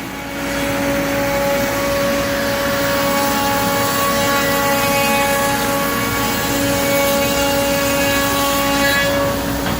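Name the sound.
machine flattening French Mappa burl wood slabs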